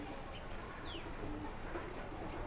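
Soft cooing of pigeons in a rooftop loft holding separated male, young male and female birds, a steady low murmur of calls with occasional chirps against a constant background hiss.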